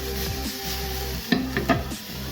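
Pork meatballs frying with cumin and spices in a pan give a steady close sizzle, broken near the middle by a few sharp scrapes and stirs of a utensil.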